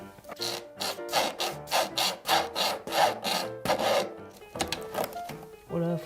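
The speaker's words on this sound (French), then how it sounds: "Ça, c'est une scie." Hand saw cutting through wood during ceiling and shower installation work, with steady rhythmic back-and-forth rasping strokes, close and fairly loud, and a brief pause near the end before sawing resumes.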